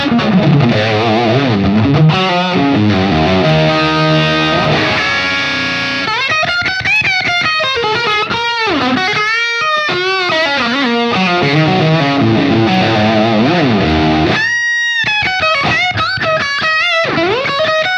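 Distorted electric guitar played through a 1979 Marshall JMP tube amplifier, a continuous stretch of gritty chords and bending lead lines, loud and close, with no talking.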